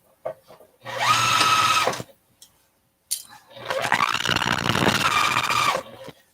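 Home sewing machine stitching fabric while assembling a fat-quarter zipper project bag: two bursts of fast motor-driven stitching, the first about a second long, then a pause and a longer run of nearly three seconds, close and fairly loud.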